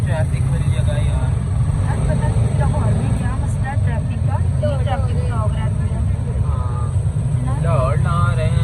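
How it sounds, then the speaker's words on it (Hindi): Busy road traffic in a crowded city area, a constant loud rumble of engines with scattered horn-like tones, under continuous talking. "कितनी ट्रैफिक वाली जगह यार"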